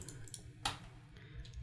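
A single crisp computer mouse click, close and fairly quiet, while working in motion graphics software, set against a low background hum.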